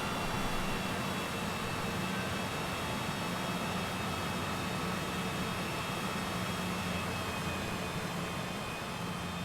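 A simulated Cessna Citation CJ4 business jet taxiing in Microsoft Flight Simulator, its jet engines giving a steady, broad hissing roar at constant level throughout, with no voices.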